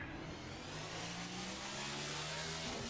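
Race car engines roar steadily in the iRacing sim at the Clash at the LA Coliseum, a dense, continuous drone of several cars at fairly low level with no talk.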